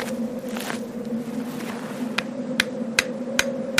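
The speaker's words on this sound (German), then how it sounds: "Ich habe den Haken in den Fels geschlagen" In a German radio play, a metal hook is hammered into rock: a steady low hum underlies a series of sharp, evenly spaced metallic strikes that grow more distinct toward the end, with no speech.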